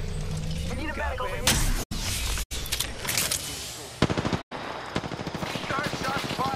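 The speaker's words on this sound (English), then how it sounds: "shots fired and they're hitting me!" Rapid bursts of automatic gunfire in the video game Apex Legends, sharp repeated shots in clusters with brief silent gaps, close and loud, with voices mixed into the chaos.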